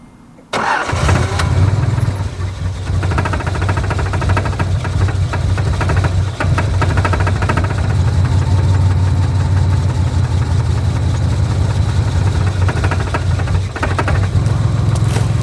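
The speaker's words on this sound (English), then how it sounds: "So you can see it idles, but as soon as you give it any throttle, it's starving for gas" A 1986 Nissan 300ZX engine starts and settles into a rough, loud idle with uneven pulsing and some knocking from a loose hood, heard close and without talk.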